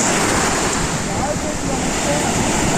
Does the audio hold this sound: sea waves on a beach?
yes